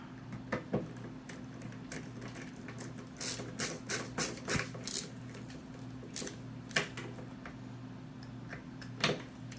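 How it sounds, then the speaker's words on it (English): Beadlock screws on a 1/10 scale RC crawler wheel are tightened down, giving close, crisp ratcheting clicks in a quick run of bursts followed by a few scattered clicks, with no talking. "Just go around, tighten them all down."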